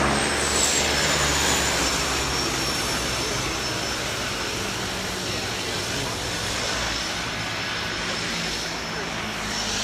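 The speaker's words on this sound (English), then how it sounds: "There's the seaplane." A seaplane passes over Cole Harbor on a morning flight, its engine a loud, steady roar that fills the whole stretch with a faint high whine on top, close and continuous.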